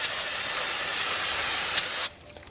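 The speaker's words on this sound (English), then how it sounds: "you just want to hit it with a bit of brake cleaner just to get the residual fluid off" Brake cleaner from an aerosol can sprays onto the brake bleed nipples of a Ford Ranger, a close, loud, steady hiss lasting about two seconds before cutting off sharply, with no talk.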